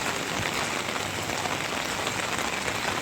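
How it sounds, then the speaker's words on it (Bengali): Rain pours onto a road in Hemayetpur, Bangladesh, during the rainy season, an even, dense hiss of drops that stays constant throughout, with no voices. "হেমায়তপুরের বৃষ্টি, আশা করি কিছুক্ষণের ভিতর বৃষ্টি থেমে যাবে।"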